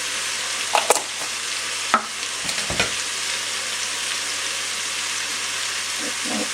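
Garam masala and cayenne spices sizzle and fry steadily in a pan, with a few scraping knocks from a wooden spoon stirring them early on; close and continuous with no talking.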